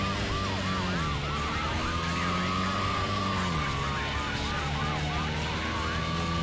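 Police car siren in the racing game Need for Speed III Hot Pursuit, wailing loudly and continuously over a roaring engine and road noise, with the pitch sweeping up and down throughout.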